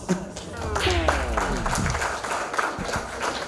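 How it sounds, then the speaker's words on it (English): An award-night audience claps at a women's honours ceremony, scattered rhythmic hand claps over music and some crowd chatter, moderately loud throughout. "A loud round of applause for the boss."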